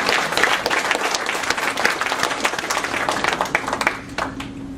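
An audience breaks into applause, a dense, sustained patter of many hands clapping at moderate distance, with a few sharper individual claps standing out before it starts to thin at the end.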